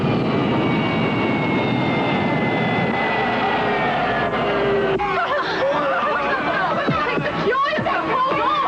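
Airliner engines roar steadily through an emergency landing with a fire on board in a 1985 film, a loud continuous drone under tense cockpit voices that turn to shouting near the end.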